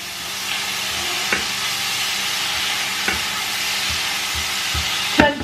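Steady, close sizzling and crackling of wine hitting a hot frying pan, with occasional soft clinks and scrapes of stirring.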